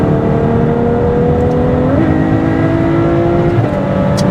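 A Ferrari 812 Superfast driven hard at high speed on the Autobahn, its engine a loud, sustained tonal roar inside the cabin, the pitch stepping as it shifts gears while rising, over heavy road and wind rush.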